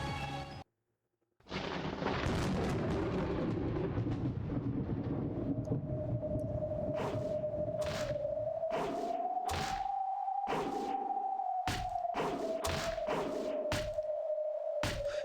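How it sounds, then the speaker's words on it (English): Sharp, percussive impacts of clangs, thuds, cracks and squishes repeat in a steady beat over a sustained electronic tone, loud and close, from the game Umineko. "A clang, a thud, a crack, a squish."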